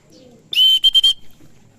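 A short burst of racing pigeon sound, close by: a thin whistle-like call broken into a few quick pulses, then silence.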